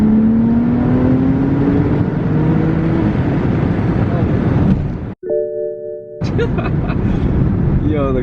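A BMW F80 M3 with a Bootmod3 Stage 2 tune accelerates hard in third gear, its engine note climbing loudly and steadily, then cutting abruptly at a shift before a brief lull with a low tone and the engine returning.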